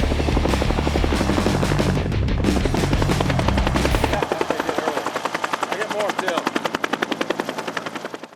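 An AH-1 Cobra helicopter thunders close and loud, its rotor blades beating in a rapid steady chop that thins out after a few seconds into distinct pulsing blade slaps, with a voice faintly under the din.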